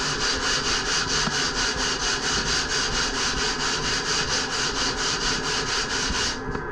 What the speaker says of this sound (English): Now, I'll just get my 40 grit here, and I'll just true up this tail.